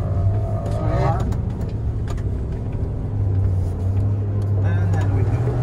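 A 2021 Ford Bronco Badlands four-door with the 2.7 twin-turbo engine, in four-wheel drive, pulls away with a steady low engine drone, heard from inside the cabin while people talk over it.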